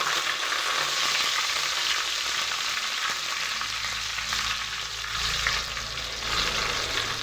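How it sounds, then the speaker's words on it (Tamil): Curry leaves and mustard seeds frying in hot oil, a loud steady crackling sizzle with occasional stirring, close up and without talk. "கடுகு பொரிஞ்சதும் கருவேப்பிலை போட்டுக்கலாம்"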